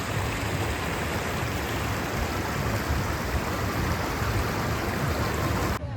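Broad, steady rush of a river flowing at the Assam–Nagaland border, with boulders along its banks, dense and loud and constant throughout with no talk.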